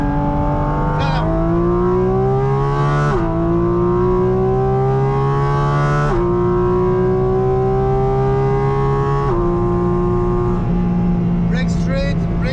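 A Porsche GT4 RS engine runs at full throttle on the Nordschleife, heard from inside the car as a loud, continuous rising howl through the gears, with sharp drops at each upshift and a voice talking over it.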